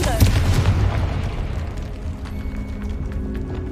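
The fiery blast curse Confringo cast in the Hogwarts Legacy game: a punchy explosive burst at the start, then a rumbling, crackling tail that fades slowly while faint ringing tones hang in the background.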